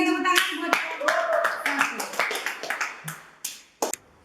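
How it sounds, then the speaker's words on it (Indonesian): Classroom applause breaks out after a group presentation on baking, with scattered hand claps of uneven rhythm that thin out to a few last claps while voices speak over them. "sekali lagi berikan tepuk tangan buat"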